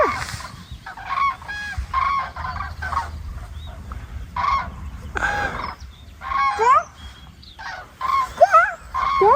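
A flock of domestic geese or fowl honks and squawks in repeated bursts, some calls close and loud, with a steady low rumble underneath and no talking.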